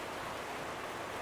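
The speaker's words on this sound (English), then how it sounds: "So basically what we have is a rainstorm." An outdoor rainstorm makes a steady, even hiss of falling rain, continuous and fairly close, with no voices.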